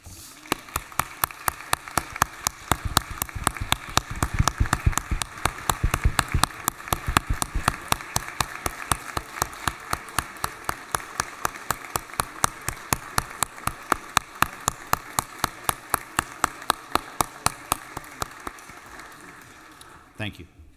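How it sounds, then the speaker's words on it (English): Rhythmic, steady clapping fills the state Senate chamber as members stand to honor a colleague during a legislative session, a loud, even beat that keeps going for about eighteen seconds and then stops. "I ask everyone in the Senate to please rise and give a rounding applause to Lynn Riley."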